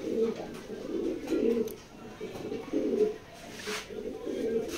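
A male racing pigeon of the Kubman line coos close by in repeated low, throaty rolling phrases with short gaps between them.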